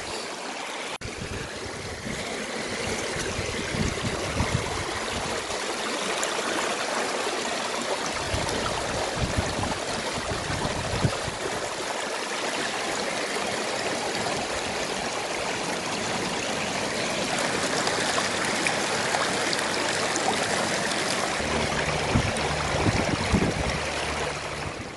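Water flows through a sluice box into a stream on an English beach while gold panning, a continuous broad rushing wash that holds steady and moderately loud throughout with no voices.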